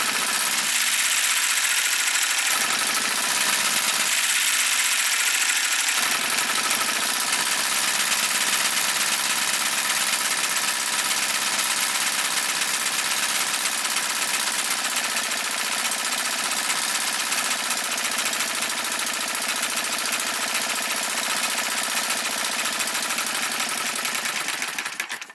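Custom-modified Enjomor 6cc hit-and-miss model engine running steadily close by, a dense continuous mechanical chatter that pauses briefly twice in the first few seconds before settling into an unbroken run.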